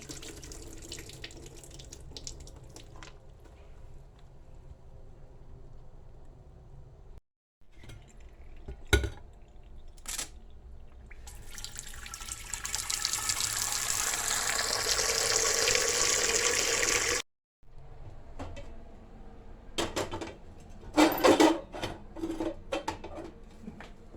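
Soaked soybeans being rinsed under a running tap in a sink, with a gushing stream that swells loud in the middle, plus splashing, rattling and knocks from a pot or bowl between bursts.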